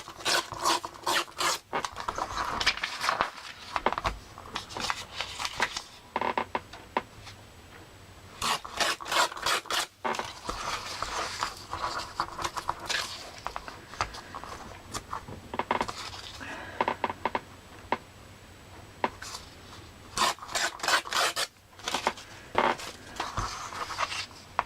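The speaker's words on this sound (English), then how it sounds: "I'm going to rip my pages." Paper pages being torn up by hand for a junk journal, bursts of rough ripping and rustling in quick clusters separated by short pauses, close and fairly quiet, with no talk.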